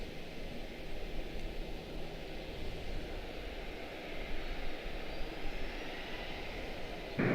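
An airliner in TWA livery moves at Charlotte-Douglas International Airport, a steady broadband jet engine roar holding at moderate level throughout, with a brief louder burst at the very end.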